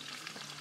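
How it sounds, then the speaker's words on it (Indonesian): Food frying in a pan over a camp stove while cooking lunch on a Mount Ciremai hiking trail, a short burst of steady close sizzling hiss. "sekarang kita lagi masak buat makan siang"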